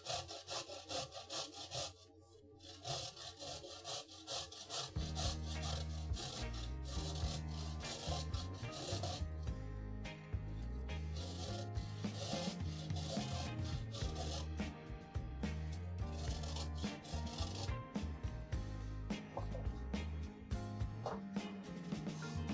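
Carrots for a carrot cake are rubbed against a fine grater in steady, rhythmic rasping strokes that continue throughout, close and even, over a constant tonal background.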